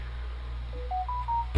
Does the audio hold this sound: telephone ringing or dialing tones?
yes